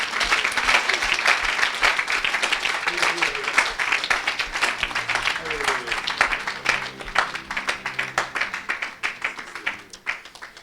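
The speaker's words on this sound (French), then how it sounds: "Acclamez pour Jésus." An audience claps and cheers at a church service, a dense, continuous burst of applause close by that gradually thins into rhythmic clapping toward the end.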